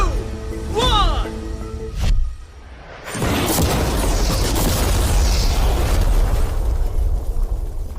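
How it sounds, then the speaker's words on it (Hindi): Ordinary passenger car blown up with mannequins inside, a sudden loud explosion followed by a sustained roaring, crackling rumble, after a voice counting down. "चलो उड़ाते हैं एक नॉर्मल कार को और देखते हैं कि पैसेंजर्स बच पाते हैं या नहीं"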